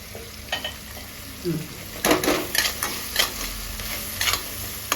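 Tomatoes sizzle in a hot pan while a utensil scrapes and stirs in several short bursts, close and fairly loud.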